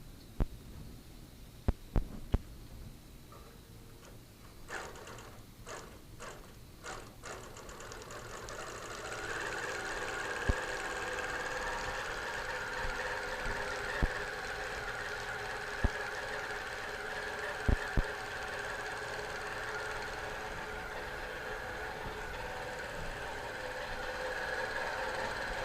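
A Q-matic computerized quilting machine stitches out a quilting design, giving a steady mechanical hum with a faint rhythmic throb. A few sharp clicks come early on, and the running sound grows fuller and steadier about a third of the way in.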